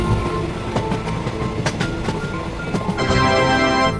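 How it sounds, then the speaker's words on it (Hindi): A train pulls out of a railway station, rumbling loudly and steadily with metallic clatter and a few sharp knocks, then a bright tonal screech rises toward the end. "तभी ये ट्रेन यहाँ से जाने लगती है"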